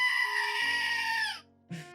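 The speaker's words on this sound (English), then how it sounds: "it's a screaming goat." A goat screams loudly in a strained, sustained cry lasting over a second, followed by a shorter second burst after a brief pause.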